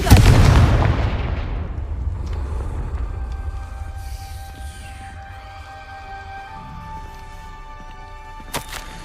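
Confringo fire spell blast in the Hogwarts Legacy video game: a loud booming explosion at the start that rumbles and decays over several seconds into quiet ambience, with a small sharp pop near the end.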